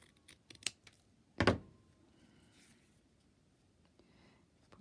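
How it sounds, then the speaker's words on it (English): Scissors snip through hemp twine with one sharp, close cut standing out among a few lighter rustles and taps of paper-crafting handling in a quiet room. "So I'll just cut that."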